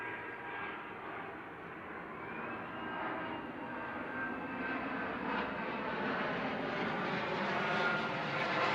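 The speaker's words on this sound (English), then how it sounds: "Jet." A jet aircraft roars overhead above a driveway, a steady, loud, broadband engine rush that grows slightly stronger as it passes, heard alone without talk.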